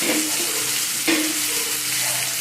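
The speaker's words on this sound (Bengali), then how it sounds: "ভালো করে নাড়াচাড়া করে নেব।" Cut potato frying in hot mustard oil in a wok with black cumin and green chillies, a close, loud sizzle with quick stirring scrapes, no talking.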